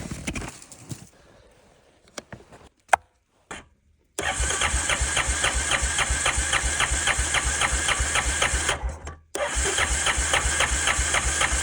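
A snowmobile with a dead battery cranks weakly after a few faint knocks, then catches into a steady rhythmic engine chug that briefly cuts out and resumes.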